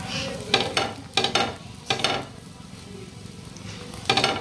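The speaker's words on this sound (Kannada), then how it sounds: "ಇದನ್ನ ಈ ಥರ ಒಂದು ಸ್ವಲ್ಪ ಪ್ರೆಸ್ ಮಾಡ್ಕೊಂತ ಫ್ರೈ ಮಾಡ್ಕೊಳ್ಳೋಣ್ರಿ" Samosa paratha is pressed down and fried in a pan, giving a low background sizzle broken by several sharp scraping and clinking strokes of a spatula against the metal pan; no voices.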